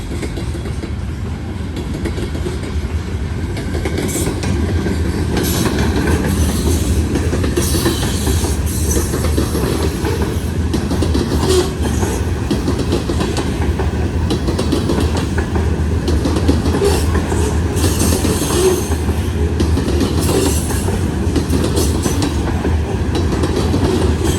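A freight train of boxcars rolls past close by near Sharonville, Ohio, loud and steady, with rhythmic clickety-clack of wheels over rail joints and faint wheel squeal.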